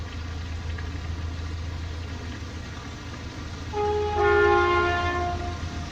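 Low rumble of a train rolling along railway tracks beside a canal, heard from a narrowboat near Kidlington, with a horn sounding midway over the steady drone, moderately distant.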